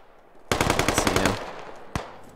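Automatic gunfire in the Squad game, a rapid burst of about a dozen close, loud shots lasting under a second, followed by a single sharp report shortly after.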